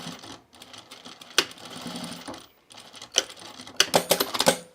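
A sewing machine runs close by, stitching a seam on underwear in short rapid bursts separated by pauses, with a few sharp clicks near the end.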